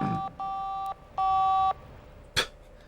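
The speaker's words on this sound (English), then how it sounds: "Phone makes that noise." Telephone keypad tones from The Da Vinci Code video game on PS2, two steady beeping tones in sequence, the second louder and longer, followed by a brief sharp click.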